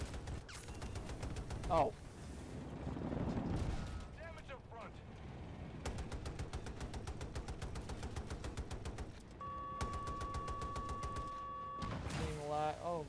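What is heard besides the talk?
full-auto gunfire in the video game Battlefield 2042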